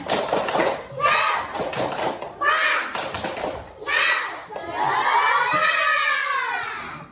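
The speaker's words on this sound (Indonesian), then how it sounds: "ada yang tahu tepuk semangat? Ayo, tepuk semangat." Schoolchildren in a primary school classroom chant together in rhythm with sharp claps punctuating the beat, ending in a loud group cheer, all close and lively.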